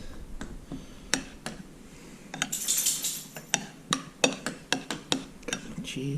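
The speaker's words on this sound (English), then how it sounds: "Mix everything together." Roasted cauliflower, garlic and cream soup stirred in a small bowl, with a run of sharp spoon clinks and scrapes against the dish that grow busier toward the end, close and fairly loud over faint room noise.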